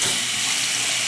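A bathroom sink tap in an apartment runs at full pressure, a steady, loud, close rush of water with no pauses and no voices.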